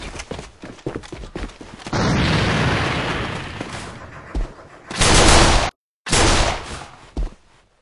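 A thrown grenade bursts in the tactical shooter A.V.A: light clatter and movement, then a sustained roaring blast, followed by further heavy booms and a sharp cutoff, loud and close with no talking over it.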